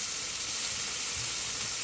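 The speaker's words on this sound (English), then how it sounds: "So I know you won't be able to see the whole pan that I'm frying in" Vegetables fry in a pan on a home stove, giving a steady, close hiss and sizzle that holds evenly throughout with no talking.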